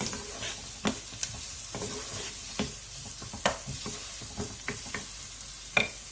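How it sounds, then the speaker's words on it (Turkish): Onions sautéing in a pan for a Black Sea style bean dish, a low steady sizzle under repeated spatula scrapes and clicks against the pan, close and unaccompanied by talk. "Soğanımızı şöyle birazcık kavuracağız."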